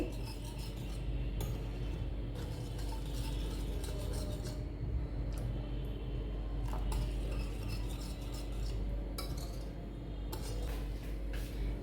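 Milk being stirred into a pudding mixture in a bowl, a steady rasping, scraping stir that runs continuously with faint clinks of the utensil against the container and no talking.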